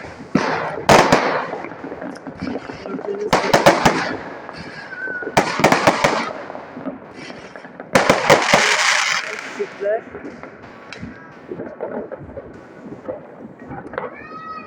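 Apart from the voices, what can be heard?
fireworks exploding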